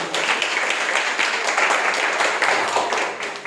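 A church congregation applauding together at a missionary sermon, dense, loud, continuous clapping that holds steady before tapering slightly at the end.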